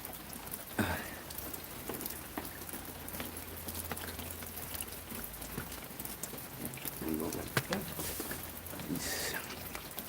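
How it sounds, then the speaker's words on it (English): Rain falling during a thunderstorm, a dense steady patter on nearby surfaces, with occasional close thumps and rustles and a voice speaking briefly. "The rain slowed down a little bit now"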